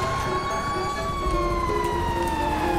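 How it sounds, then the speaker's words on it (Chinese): A fire truck siren in the video game GTA5 wails steadily at moderate volume beneath game engine noise, with a voice briefly audible. "我要打消防车"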